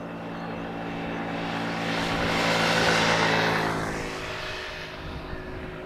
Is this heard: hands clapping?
no